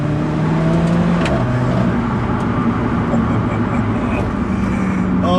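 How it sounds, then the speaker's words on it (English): Alfa Romeo 4C engine noise, a steady droning hum of the running car heard from inside, continuous and moderately loud, with faint road noise and occasional background sounds. "they could watch my videos every time just to hear the noise of the 4C"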